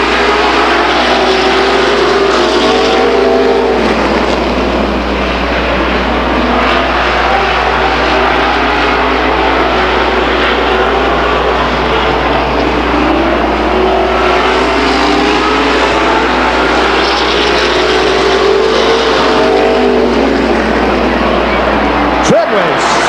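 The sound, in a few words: stock car racing at Stockton 99 Speedway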